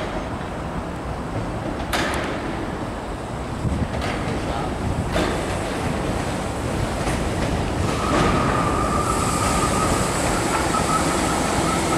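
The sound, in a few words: Class 320 train arriving at station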